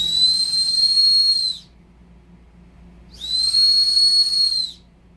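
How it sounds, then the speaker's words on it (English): Two long, piercing blasts from a small survival whistle from a paracord kit, each about a second and a half, separated by a short pause, loud and close. "We have the whistle."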